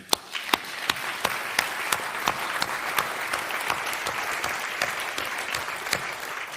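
A festival audience applauds at the opening ceremony of a Slovenian film festival, sustained crowd clapping with sharp individual claps standing out in a quick, uneven rhythm over several seconds, heard alone without speech.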